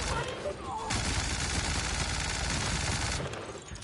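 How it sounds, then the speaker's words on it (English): Rapid, sustained Gatling gun fire in The Outer Worlds, a dense continuous roar of shots lasting several seconds, loud and close, with a brief quieter lead-in and tail. "A Gatling gun."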